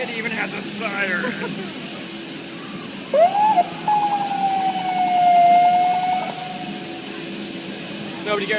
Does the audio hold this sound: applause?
no